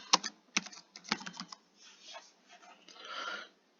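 Keys clatter on a computer keyboard as a name is typed, a quick burst of close, crisp clicks followed by softer, scattered keystrokes, with no talking.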